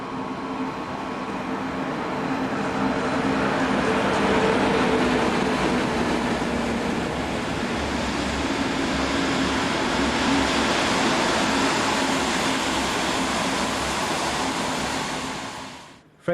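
Freight train hauled by a Class 155 electric locomotive arriving on the line from Cottbus, a loud, sustained rolling roar of wagons passing close by, steady for most of the run before cutting off at the end.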